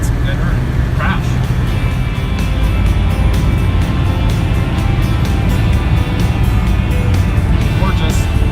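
Saab 900 SPG cruising on the open road, its engine and tyre roar a steady, loud in-cabin drone throughout, with a person talking over it.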